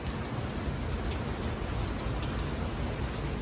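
Rain pours steadily outside a home, a dense, even patter of drops on surfaces that fills the whole stretch at moderate volume, with no voices and no breaks.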